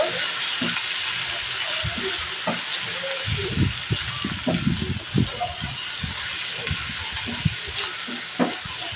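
Chicken pieces with turmeric powder and salt sizzle in a pan under a continuous hiss, while a utensil stirs and scrapes in irregular bursts through the middle.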